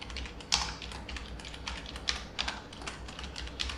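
Fingers type on a computer keyboard during a Linux command-line demo, giving quick irregular bursts of close, crisp key clicks with brief pauses between them.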